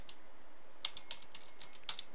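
Someone types on a computer keyboard, a few quiet, close key clicks scattered irregularly over a couple of seconds.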